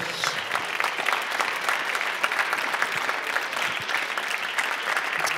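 An audience applauds to welcome Hakim Areski, Paralympic blind-football champion and patron of an inclusion-through-sport award ceremony, with steady, dense clapping that holds at an even level for the whole stretch.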